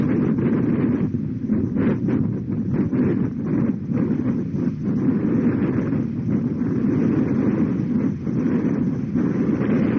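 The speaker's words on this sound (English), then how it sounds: "You can hear a little bit of the wind still there, but amazing sound of the launch." Falcon 9 rocket launch carrying HTS-113BT and Merah Putih 2, a loud continuous low rumbling roar with some wind buffeting over the microphone, steady for the whole stretch with no talk.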